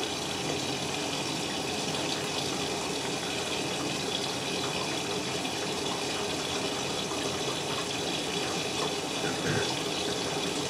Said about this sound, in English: now we're filling for the final rinse and taking in the fabric conditioner